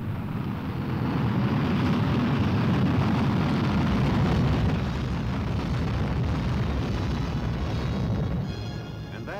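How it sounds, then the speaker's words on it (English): Archival footage of a failed Vanguard rocket launch carries a loud, sustained roaring blast that swells and rumbles for several seconds, then slowly fades, with no speech. "the first American attempt with a Vanguard rocket was a failure"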